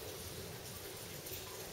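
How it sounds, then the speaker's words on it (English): Light drizzle falls steadily during a rainy journey to Cardiff, a faint, even hiss of fine drops with no distinct splashes and no talk over it. "It's drizzling."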